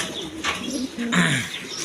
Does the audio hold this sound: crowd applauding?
no